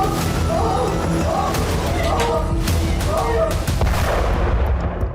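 Loud, chaotic pager bomb explosions ring out in a market in Lebanon amid sharp cracks and a dense roar of noise, with agitated voices mixed into the commotion.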